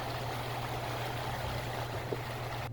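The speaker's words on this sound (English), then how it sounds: "There's about a dozen people around me all swimming in the river." River at road's end in Kings Canyon flowing in a steady, even rush that fills the clip, with people swimming nearby but no clear voices or splashes standing out.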